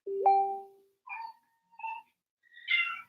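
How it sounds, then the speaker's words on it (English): A domestic cat meows four times in short, separate calls, the first longer and lower, the last brighter and more insistent, close by in a quiet indoor room. "Who is meowing at me?"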